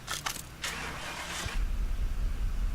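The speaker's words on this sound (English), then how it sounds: "Nice burble off the exhaust there." In a car mechanic simulator game, a car engine cranks and catches, settling into a deep, rumbling exhaust burble at idle; no voices.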